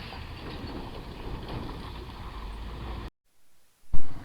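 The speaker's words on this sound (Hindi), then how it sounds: "तो आप देख रहे हैं कैसे मेरी बाइक चल रही है।" Motorbike riding a rough, broken road between Meghalaya and Dharamnagar, heard as a loud steady roaring rumble mixed with wind buffeting, which cuts out abruptly near the end before a single close thump.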